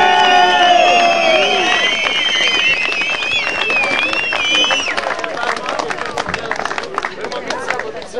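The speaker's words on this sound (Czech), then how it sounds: "Potlesk!" A crowd at a skateboarding jam in Kralupy, 2008, cheering with high whoops and whistles, then breaking into loud, sustained clapping, with shouted voices mixed in.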